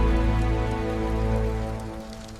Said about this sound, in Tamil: மழை பெய்யும் இரவில் அஃபியா என்ற ஒரு பெண் அந்த பழைய ஹோட்டலுக்கு வந்தாள்.